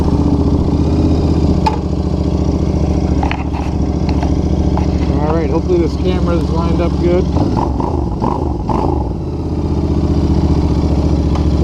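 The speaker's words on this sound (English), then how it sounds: "let you hear the exhaust, see what you think" A 2021 Royal Enfield Continental GT 650 with Emgo slip-on mufflers idles with a steady, throaty exhaust rumble throughout, while someone talks over it up close.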